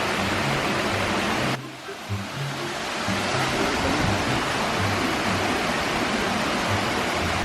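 Peace Waterfalls in Boljoon, Cebu, roaring as a steady broadband rush of falling water, close and loud throughout, with a brief dip near the start and faint low voices underneath.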